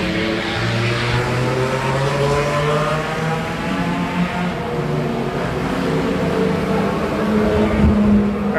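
A Jaguar E-Type racing car at the HSR Classic 24 Hours at Daytona gives a steady, loud engine drone that swells slightly toward the end, with no voices over it.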